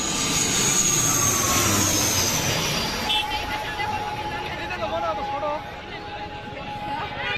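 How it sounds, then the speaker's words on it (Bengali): Loud roaring jet engine of a plane flying low overhead as it lands at Dhaka, passing close, the whine sweeping down as it goes by, with plane-spotting crowd chatter underneath. "বিমান ল্যান্ড করার সময় মনে হবে যেন মাথার উপর দিয়ে ছো মেরে যাচ্ছে"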